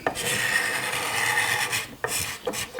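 Steady rasping strokes of a hand scraper shaving guitar neck binding, a long close scrape followed by two shorter passes, with nothing else over it.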